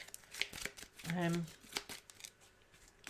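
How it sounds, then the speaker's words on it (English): A deck of cards shuffled during a live tabletop board game session, giving a short riffling burst near the middle among soft taps and handling noises, close and fairly quiet. "we need to shuffle our deck"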